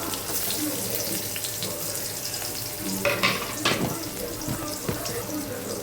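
Onions sizzle quietly in hot oil while a utensil scrapes and stirs the pan a few times, cooking for sambar.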